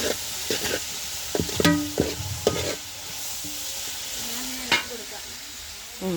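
Food frying in a pan while being stirred, a steady sizzle broken by spoon scrapes and clanks against the pan, with brief voiced sounds mixed in.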